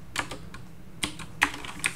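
Keys on a computer keyboard tapped sparsely while entering code, four distinct clicks spaced unevenly across a quiet background, close and clear with no talking.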